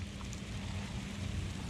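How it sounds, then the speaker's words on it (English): Heavy rain sweeping in over a Louisiana pond during a thunderstorm, a steady dense hiss of downpour filling the air with no voices. "raining heavily right over there"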